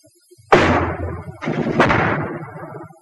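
Machine gun fire from a 1943 military training film, sharp loud bursts of automatic fire with a short gap between them and a ringing tail after each burst.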